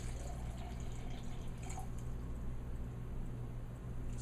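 Water poured from a measuring cup into a pot for low-carb oatmeal, a soft steady trickle close by and fairly quiet, with no talking.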